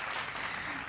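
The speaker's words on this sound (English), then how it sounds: "Guys, let's start with the applause again." Steady applause at moderate volume fills the whole second without a break, sounding like a small group clapping together indoors during a poetry reading.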